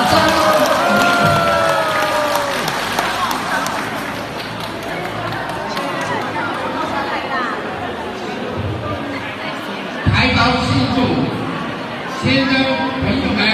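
Applause rises from a crowd welcoming a speaker at a Mazu ceremony held by a Xiapu County Mazu culture exchange group, loud and steady with chatter mixed through it, then a brief surge near the end.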